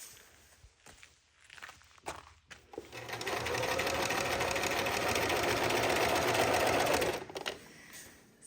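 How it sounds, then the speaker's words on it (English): Sewing machine stitching a hem on heavy canvas with khaki heavy-duty thread, running steadily for about four seconds after a few short starts and stops, close and fairly loud. "So I am just sewing my first hem."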